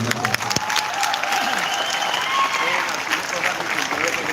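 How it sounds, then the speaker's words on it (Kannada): Loud applause from an audience at a live event, steady dense clapping filling the whole stretch with a few sharper claps near the start; voices are faintly mixed underneath. "ದಯವಿಟ್ಟು ನಮ್ಮ ಸಂಘಕ್ಕೆ ಒಂದು ಜೋರಾದ ಚಪ್ಪಾಳೆ ಕೊಡ್ಬೇಕಂತ"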